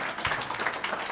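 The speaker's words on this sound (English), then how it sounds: "We can applaud for that." Audience applause fills a hall of fame induction ceremony, a dense, steady patter of many hands clapping at once, close and even for a brief moment without any voices.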